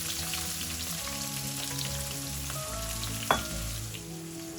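Chopped onions, fennel seeds and curry leaves sizzle steadily in hot oil for a chicken gravy. The frying is close and continuous, with a brief clatter of stirring partway through and no voices.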